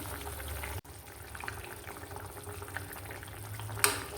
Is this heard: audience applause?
no